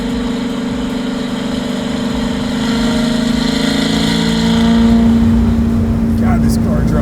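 A 1968 Chevrolet Camaro V8, a garage-built muscle car limited to 7,500 rpm, rumbles loudly and steadily while driving, its tone rising as the engine pulls harder partway through.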